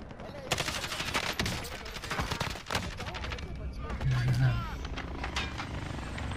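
Sniper rifle fire in Call of Duty Warzone Plunder mode, sharp gunshot cracks ringing out amid a busy battlefield of other gunfire, with players talking over the action.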